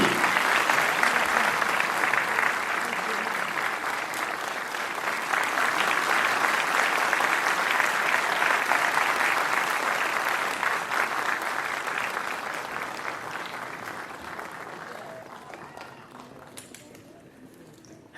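A large audience claps steadily at a Christmas Day ceremony honouring Nepal's President Bidhya Devi Bhandari, a dense, loud wash of applause that holds for most of the stretch before tapering off near the end.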